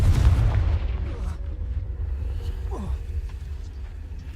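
Fiery Confringo spell blasts cast in the Hogwarts Legacy video game, heard as deep rumbling booms with a loud burst at the start that settles into a sustained low roar, and no talking over it.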